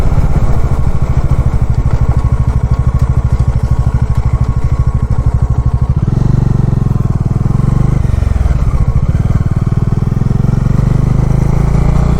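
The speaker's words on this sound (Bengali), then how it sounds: "অনেকক্ষণ ধরে বাইক চালাচ্ছি" Motorcycle engine droning steadily and loudly on the Yamuna Expressway during a long Kolkata-to-Ladakh ride, the close, continuous roar shifting in tone partway through as speed changes, with wind rush and no voices.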